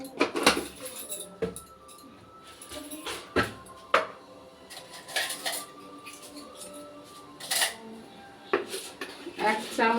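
A spoon clinks against a metal kadai of boiling water on a stove as salt is added: scattered sharp clatters and scrapes, close and fairly loud, with a voice talking between them.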